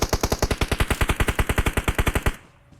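Fully automatic gunfire in PUBG Mobile, a rapid, even string of about two dozen loud shots over two seconds, then sudden quiet.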